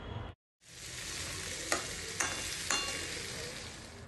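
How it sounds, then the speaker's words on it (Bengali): Rice sizzling and frying in a pan with cashews and raisins, stirred in a steady hiss broken by three sharp scraping strokes, close and alone with no voices. "একটুখানি কষে নাও সেই চাল, আর সঙ্গে মিশিয়ে দাও কাজু কিশমিশ"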